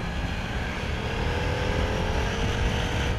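Harley-Davidson V-Rod with its Porsche-developed 60-degree V2 engine, a loud, close, sustained engine roar held at high revs for a few seconds without any voices.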